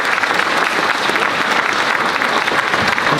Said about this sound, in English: that's a warmer applause than I used to get as principal of Langeberg